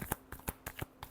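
Tarot cards get a brief final shuffle, about six soft, papery flicks in quick succession, faint and close in an otherwise quiet space.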